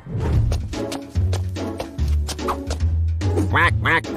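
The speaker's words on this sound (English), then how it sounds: "Quack, quack, quack." A cartoon duck quacks in a kids' animated story, a run of quick nasal quacks over a music bed that gets louder and more insistent near the end.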